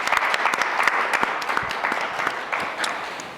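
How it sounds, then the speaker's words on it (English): An audience at a panel event on economic mobility and free expression in Pennsylvania applauds to welcome panelists, a modest crowd with distinct individual claps, fairly close and steady, gradually thinning toward the end. "let's give them a quick round of applause and a welcome"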